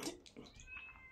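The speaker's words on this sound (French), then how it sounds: "c'est la chatte que j'ai adoptée qui miaule parce qu'elle veut venir dans la salle de bain" Adopted female cat meowing outside a bathroom door, a couple of short, faint, plaintive meows heard close but quiet with no talk.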